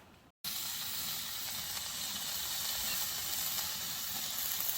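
Thin-sliced beef brisket sizzles steadily on a hot grill at a winter campsite, a loud, close, continuous crackling hiss after a brief silent gap at the start.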